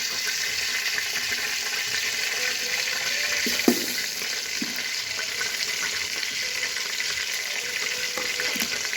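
Peppercorns tempered in hot oil give a loud, dense, continuous sizzle close by, with a couple of brief knocks from a utensil partway through.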